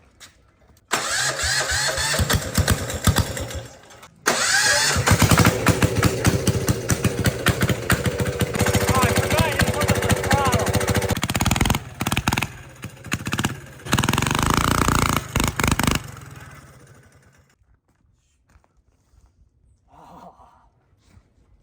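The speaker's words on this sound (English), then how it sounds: "I gotta move the supercharged diesel powered mini bike" A supercharged diesel-powered mini bike engine cranks and catches, then runs loud and close with a rough, rattling idle and revving for over ten seconds before cutting off and fading to quiet.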